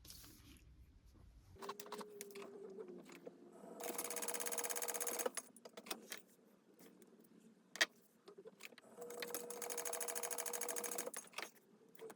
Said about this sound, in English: We're going to go ahead and top stitch this and the D-ring connector.